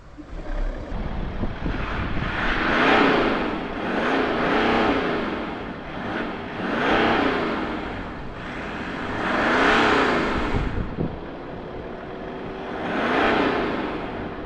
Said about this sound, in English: I'm going to give it some revs so you can hear what this car sounds like from those twin exit exhaust pipes.